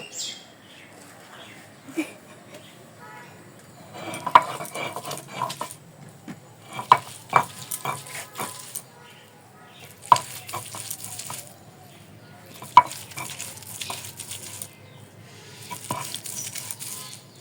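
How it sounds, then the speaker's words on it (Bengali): Dried soybeans being ground by hand with a stone pestle on a flat grinding stone (shil nora): repeated rasping, gritty scraping strokes in bursts every few seconds, close, with quiet gaps between. "শিল নোড়া নিয়ে বসে পড়েছি এখন সোয়াবিনগুলো বেটে নিব"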